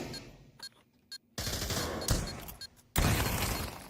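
Gunfire in the VR shooter Pavlov VR: a few sparse shots, then two loud bursts of rapid automatic fire at close range.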